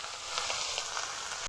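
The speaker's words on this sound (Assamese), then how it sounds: "ভাজি বনাই আছে" Food sizzling in a pan while a home meal is cooked, a steady bright hiss with faint crackles running evenly throughout before cutting off abruptly.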